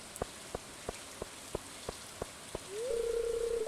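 Rain in the Stardew Valley farming game, a soft steady hiss of drops with scattered sharp ticks, joined near the end by a sustained tonal hum, no talk.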